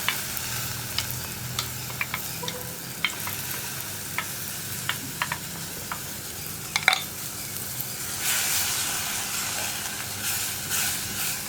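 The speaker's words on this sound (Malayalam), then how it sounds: "ഞാനിപ്പോൾ കുറച്ച് വെള്ളവും കൂടി ഒഴിച്ചു കൊടുക്കുന്നുണ്ട്" Water is poured into a sizzling tomato masala paste for Kerala tomato theeyal, made without coconut. A steady close sizzle runs throughout, broken by scattered clicks and stirring taps, and it swells into a louder hiss near the end.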